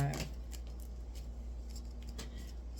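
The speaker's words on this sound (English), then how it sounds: "I'm going to shuffle these" Tarot cards being shuffled by hand in a quiet room, a series of soft papery riffles and clicks after a brief opening thump, fairly close and low in level.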